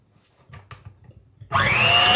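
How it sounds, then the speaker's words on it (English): An electric whisk beating eggs and sugar for zabaglione switches on abruptly after quiet kitchen handling, a loud steady motor whir with a rising pitch that continues to the end. "I'm using an electric whisk over here"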